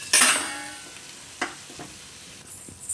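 Tandoori cauliflower stirred in a hot pan: one sharp scrape and clatter opening the clip, then lighter utensil taps and a soft sizzle underneath, heard up close with no voices.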